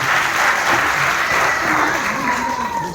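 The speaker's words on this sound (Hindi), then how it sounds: "इनके सम्मान में एक बार तहे दिल से, दिल की गहराइयों से जोरदार तालियां हो जाए" Hearty applause from a gathered audience honoring guests at a community event, a dense, steady burst of clapping with faint voices underneath.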